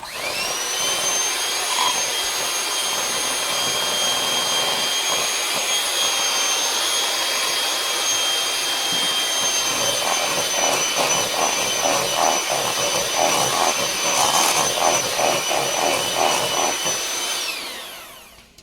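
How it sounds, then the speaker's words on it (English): An electric mixer beats pear, raisin and almond cake batter after an egg goes in, a steady high whirring drone that runs close and loud with a slight rattle partway through, then winds down at the end. "And you want to throw your last egg in. And mix."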